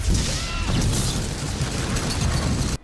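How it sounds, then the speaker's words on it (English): A Bombarda spell blast in Hogwarts Legacy makes a loud, close roar of blast and rumble. It sustains for nearly three seconds, then cuts off abruptly. "I'm ready to learn Bombarda now."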